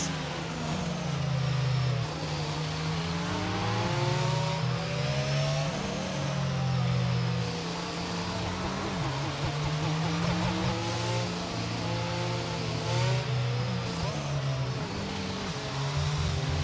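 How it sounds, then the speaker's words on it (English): A Mercedes-AMG safety car leads race cars on a circuit in Miami, with steady, loud engine drone and shifting revs as several cars pass continuously, no talk over it. "This is the Mercedes-AMG safety car leading the drivers."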